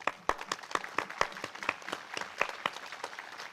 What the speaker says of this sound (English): I'd like to do another round of applause for those of you who have served.